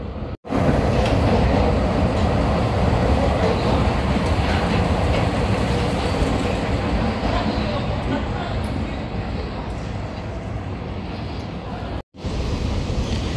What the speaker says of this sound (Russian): Заходим в стамбульское метро.